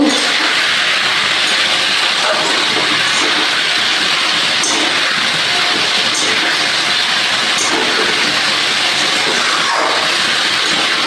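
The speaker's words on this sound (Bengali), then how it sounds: "ভেন্ডি আর পটলগুলো দিয়ে দিলাম, দিয়ে মশলার সঙ্গে একটু কষিয়ে নেব।" Okra and pointed gourd fry with spices in a hot pan, giving a steady, even sizzling hiss that carries on without a break from start to finish.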